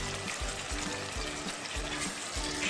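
Manimuni fish curry frying and being stirred in a pan, a steady close sizzle with rhythmic low scraping strokes from the stirring, no voices.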